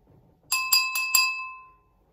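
A drinking glass partly filled with water, struck as a kitchen rhythm instrument: four bright, quick pings in a row, then a clear ringing tone that slowly fades, close and alone.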